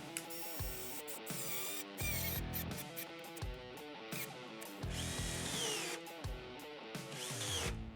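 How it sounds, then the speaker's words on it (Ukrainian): A Pro-Craft PKA24 cordless mini chainsaw saws into the end grain of a log, its motor whining in repeated bursts that bog and surge as the chain bites, loud and close with brief pauses between cuts. "Я візьму пилочку і нею в торець спробую пропилити колоду"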